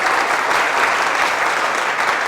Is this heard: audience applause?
yes